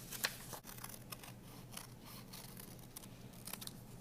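Scissors snipping through paper to cut out a shape, a run of close, quiet crisp cuts with short pauses between strokes and no talking.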